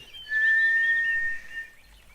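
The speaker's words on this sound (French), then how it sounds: "Le haut-parleur lui crachant un sifflement aigu" A thin, shrill electronic whistle from a TV speaker holds one steady high pitch for about a second, then cuts off, leaving a faint hiss.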